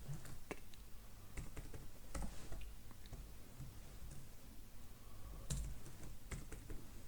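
Someone types a password on a computer keyboard, producing soft, irregular key taps in short bursts with pauses between, quiet and close in a still room without speech.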